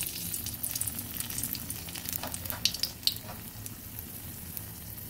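Dry red chillies, cloves and whole spices fry in hot tempering oil for chana dal, making a soft steady sizzle with a few sharp crackles and pops near the middle.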